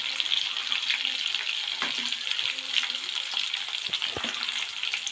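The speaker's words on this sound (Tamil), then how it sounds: "இப்போ பச்சை மிளகாய் போட்டுருவோம்" Green chillies go into hot oil over sautéed onion and cardamom for a spicy Chettinad crab curry, producing a continuous close sizzling hiss with a few scraping stirs and clinks along the way.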